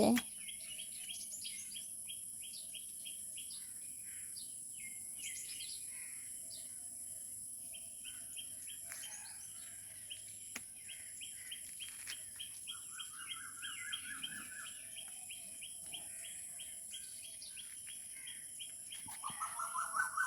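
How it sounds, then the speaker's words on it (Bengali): Birds sing in the early morning before dawn, with many chirps, trills and rising whistles layered over a faint, quiet background, some close and some farther off, and no talking. "কি সুন্দর পাখি ডাকছে"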